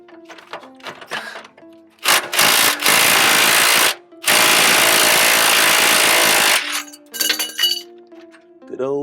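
A Ryobi power tool on a 6.0 liter Ford Powerstroke truck, loosening a bolt already broken free with a breaker bar, runs in two loud, close bursts of harsh whirring, with metallic clinks and brief speech around them.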